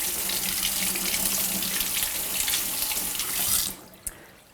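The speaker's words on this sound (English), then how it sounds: "So I need to just rinse it briefly." Water runs from a kitchen tap in a steady, loud hiss as a seaweed ingredient for vegan ramen is rinsed briefly, then the flow cuts off with a small clunk near the end.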